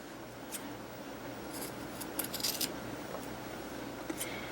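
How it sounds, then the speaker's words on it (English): Scissors snip through fabric at a buttonhole during sewn memory-ornament crafting, giving a few brief, crisp cuts around the midpoint that sit over a quiet, steady room background. "I'm going to go ahead and cut right there at the buttonhole."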